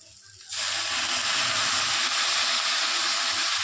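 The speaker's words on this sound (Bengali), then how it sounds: "ম্যাগিগুলো তেলে ভাজা হয়ে গেছে এবারে আমি পরিমাণ মতো জল দিয়ে দেবো" Water poured into a hot pan of oil-fried Maggi masala noodles with vegetables sets off a sudden loud, steady steaming hiss that starts abruptly and holds at full strength after a brief quiet moment.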